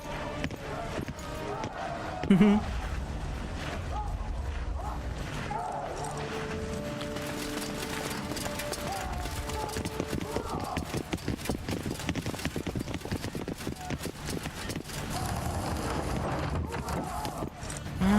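Horse hooves clip-clop steadily in The Witcher 2, a rhythmic trotting beat running under music and game sounds while someone talks over it.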